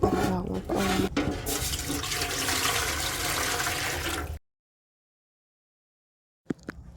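Water is poured into a heated pot to steam prahok, a Cambodian fermented fish paste, making a steady, close rushing splash for about four seconds, then silence before a few faint clicks.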